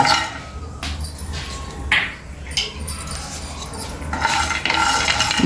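Coriander seeds and cumin dry roasting in a pan, stirred with a metal spoon that scrapes and clinks against the pan in irregular bursts over a low, steady background hiss.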